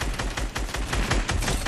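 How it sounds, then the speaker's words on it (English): Rapid bursts of gunfire in a video game, a dense, loud stream of shots in quick succession with no pauses. "somebody else is shooting at me"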